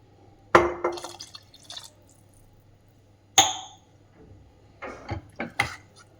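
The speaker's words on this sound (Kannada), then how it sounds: "ನಾನು ಈ ಗ್ಲಾಸಿಂದ 1/4 ಕಪ್ಪಷ್ಟು ನೀರನ್ನು ಹಾಕ್ತಾ ಇದ್ದೀನಿ." Water poured from a glass onto basmati rice in a pot, a few short splashing pours with clinks of the glass and pauses between them.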